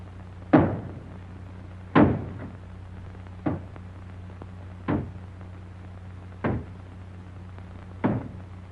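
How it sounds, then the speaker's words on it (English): A door in a 1938 film being broken down, six heavy wooden thuds spaced about a second and a half apart, loud and close with little else between blows. "Break it down."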